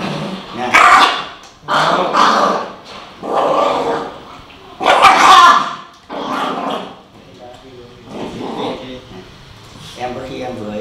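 A dog growls, barks and whimpers in repeated loud bursts while its jaw is held steady for oral tablet medication, with a person talking over it.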